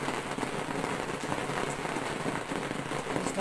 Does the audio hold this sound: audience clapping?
no